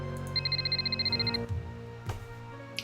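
A telephone rings in the Nancy Drew game The Haunted Carousel, giving a quick run of about a dozen bright electronic trills. The ringing stops partway through, and quieter game sounds carry on afterward.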